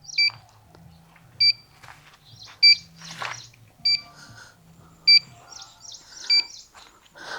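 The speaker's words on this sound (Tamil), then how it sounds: "நீரோட்டம் 2 இன்ச்சுக்கு மேலே இருந்தால் இதில் பீப் சவுண்ட் வரும்." A water-detector device used to locate underground water flow before drilling a borewell gives short, high electronic beeps, about six of them evenly spaced roughly a second apart, clear over a quiet background.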